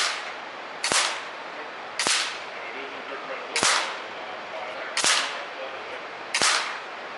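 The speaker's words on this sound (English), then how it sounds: "Here we see shooter 2's 10-shot effort with the FX" An FX Impact air rifle fires during a 10-shot group, sounding as five sharp cracks about a second apart, each with a quick decay over a steady hiss of background noise.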